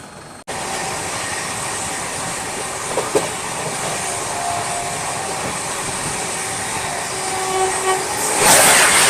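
The Pune Duronto AC express pulls out of the station with a steady, loud rumble and hum of rolling rail cars, a few faint clanks midway, and a brighter hiss swelling near the end.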